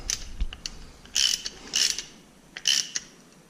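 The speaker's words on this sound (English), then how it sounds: "just tighten it by hand with the ratchet" Ratchet hand-tightening a catch can fitting on a 2005 C6 Corvette, several short bursts of rapid close clicking separated by brief pauses and small handling knocks.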